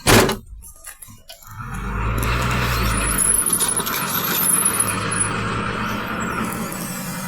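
Heavy truck at a quarry, a sharp brake-like hiss or crack at the start, then a steady loud engine rumble idling or pulling away nearby with a faint high whine, no talk.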